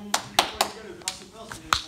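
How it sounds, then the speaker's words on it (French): Audience applause breaks out at a fitness class, a few sharp scattered claps rather than sustained clapping, with faint voices underneath. "On peut l'applaudir."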